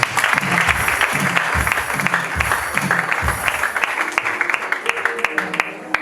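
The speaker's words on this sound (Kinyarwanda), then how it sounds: "dukomere Imana amashyi" A church worship crowd applauds with dense, sustained clapping while a voice speaks over it, the clapping thinning toward the end.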